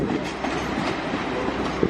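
A Class 323 electric train running from Manchester Piccadilly pulls into Crewe station, a steady close rumble of rolling wheels with faint clickety-clack over the rails, continuous and without voices.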